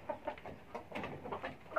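Two black chickens kept as pets give a quick series of soft, close clucks in an uneven rhythm, several short calls within a couple of seconds.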